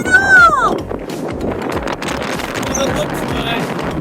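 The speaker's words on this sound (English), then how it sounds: "The top is so windy." Steady wind buffets the microphone on the exposed granite summit of Enchanted Rock in the Texas Hill Country, a loud continuous rumble with a brief whistling tone at the start.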